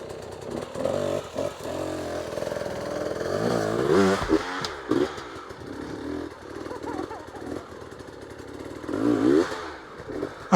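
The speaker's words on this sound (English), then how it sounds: "We pulled up to a tractor wheel, and Nick showed us his enduro skills here." A Kawasaki KLX 300 dirt bike revs hard climbing over a tractor wheel on a wooded trail, its single-cylinder engine rising and falling in repeated bursts, close and loud with some voices in the background.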